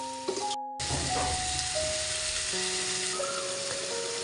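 Potatoes fry in a pan with spices and are stirred now and then, giving a steady close sizzle. Faint tonal whines run underneath, with a short dropout near the start.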